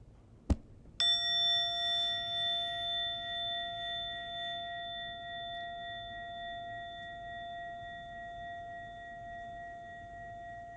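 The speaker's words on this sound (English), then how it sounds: "in a moment, you'll hear a bell or chime" A single bright bell chime rings out after a soft tap, its clear tones sustaining and slowly fading away over several seconds.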